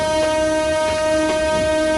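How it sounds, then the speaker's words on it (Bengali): A steady, sustained train horn sounds from the Meghna Express in a Bangladesh train simulator video game, holding one unbroken tone for the full two seconds, fairly loud, with no talking. "ওকে একটা হর্ন দে"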